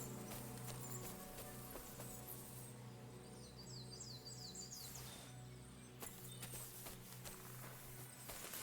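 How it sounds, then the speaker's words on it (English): A horse in the woods in Kingdom Come Deliverance 2 gives soft hoof clops and stirring under a steady forest ambience with chirping birds, all faint and low in level. "A horse? What's it doing here in the woods?"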